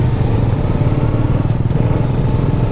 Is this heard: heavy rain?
no